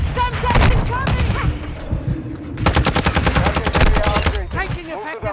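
Video game firefight with rapid bursts of automatic gunfire and sharp single shots rattling loudly in quick succession, game voices speaking in between.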